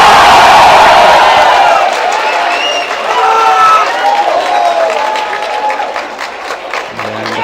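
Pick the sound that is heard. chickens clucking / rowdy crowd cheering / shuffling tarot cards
rowdy crowd cheering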